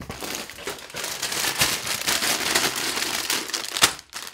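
Plastic bags rustle and crinkle steadily as they are lifted one after another out of a delivery box, close and fairly loud, with sharper crackling bursts near the end.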